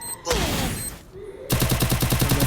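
A grenade blast in a battle-royale style video game, with a sharp boom early on followed by a rapid burst of gunfire in the final second, loud and close.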